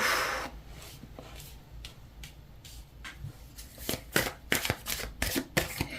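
A deck of tarot cards is shuffled up close, starting with soft riffling and sliding and building to sharper, louder snaps and flicks of cards toward the end, with no voices.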